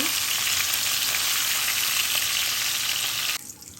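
Cauliflower pieces frying in hot oil in a pan for a Bengali labra vegetable curry, a steady loud sizzle that cuts off abruptly near the end, leaving quieter background.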